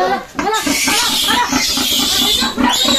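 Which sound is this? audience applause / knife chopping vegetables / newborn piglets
newborn piglets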